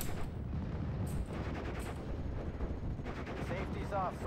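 Machine gun fire in the Steel Division World War II game, set in the siege of Sainte-Mère-Église, with distant bursts and rumbling gunfire under continuous battle noise, fairly faint.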